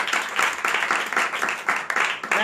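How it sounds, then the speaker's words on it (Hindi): A church congregation at a Tuesday worship meeting claps loudly in a rhythmic, pulsing pattern, the beats close and energetic with a strong repeating cadence across the whole moment. "यीशु के लिए जोरदार तालियां"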